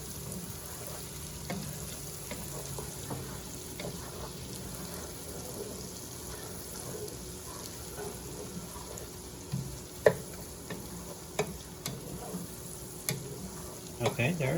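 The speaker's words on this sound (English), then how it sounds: "there you start seeing some of the veggies and stuff start getting caramelized there, releasing the flavors into the butter" Onions and vegetables fry in butter in a pan with a steady, close sizzle, while a utensil stirs them and adds scattered scrapes and clanks that grow sharper toward the end.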